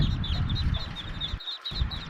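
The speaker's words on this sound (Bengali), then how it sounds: "চীনা হাঁসের বাচ্চা রয়েছে" Muscovy ducklings give repeated high, thin peeps close by, a quick run of small chirping calls over a low, muffled background rustle.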